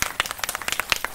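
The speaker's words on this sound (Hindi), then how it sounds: "झंडा रोहण के लिए जोरदार ताली।" Applause for a flag hoisting at an Independence Day celebration, a group clapping in quick, uneven bursts, near and moderately loud, without anyone talking over it.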